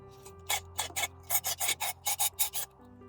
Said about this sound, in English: Okay, that was just some brake cleaner solvent.